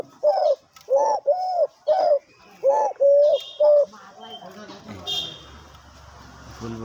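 A caged bird for sale, likely a dove or pigeon, gives a series of about seven clear, evenly spaced calls up close, then a voice talks briefly over faint background noise.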